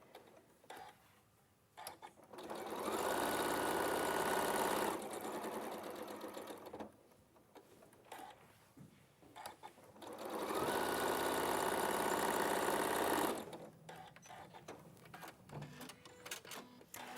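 A sewing machine stitches at a raised speed in two long, steady bursts of fast mechanical whirring and ticking, with quiet pauses between and around them.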